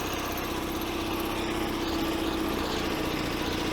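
An Invacar three-wheeler's small engine running steadily while driven, a continuous buzzing drone with a faint whine, heard from close by without pauses.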